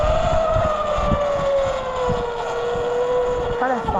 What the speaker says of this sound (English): The one thing I don't like about this bike is it's so freaking loud.